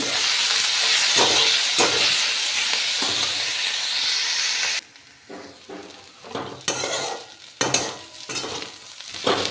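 Onion is dropped into a hot pan in a home kitchen for a tomato and green chilli mustard dish, giving a loud bright sizzle that drops to a softer crackle, broken by repeated scraping stirs.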